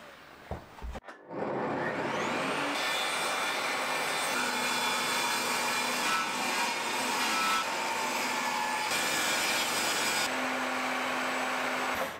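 A power saw cuts a multiplex wood board to shorten it: after a few brief knocks, a loud, steady high whine runs continuously for about eleven seconds, with slight shifts in pitch partway through.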